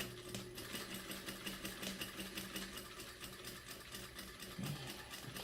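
A sewing machine stitches a curved seam with long stitches, running in a steady, quiet, fast mechanical whir at close range, with no one speaking.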